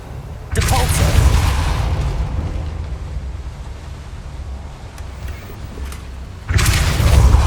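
A Depulso spell cast in Hogwarts Legacy: a loud whooshing blast bursts out, holds as a rushing roar for several seconds, then a second forceful burst follows at the end.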